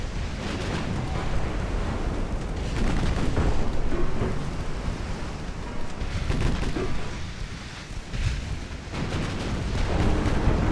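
Heavy naval shell explosions in a World War II-era US campaign war video game, rumbling booms and surf-like wash rolling continuously with several swells, loud and dense throughout, no talk over it.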